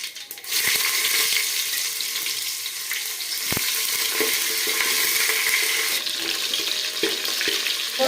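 Onions fry in a pan for a sprouted-bean sambar, giving a loud, close, continuous sizzle with occasional stirring scrapes and clinks.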